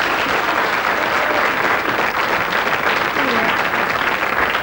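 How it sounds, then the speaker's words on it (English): Studio audience applauding at a televised game show after a contestant wins £105, steady dense clapping sustained throughout at an even level. "Give her a round of applause."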